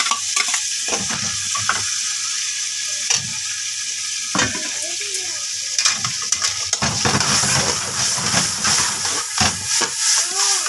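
Cabbage, capsicum, tomato and onion fry in a pan with a steady hiss and sizzle, stirred with scraping and clanks, while voices talk over the cooking.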